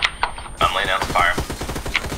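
Bursts of rifle fire in ArmA 3 crack in quick repeated shots, loud and close, while a voice speaks under the firing.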